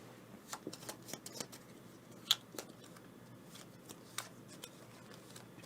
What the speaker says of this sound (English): We need to shuffle this up.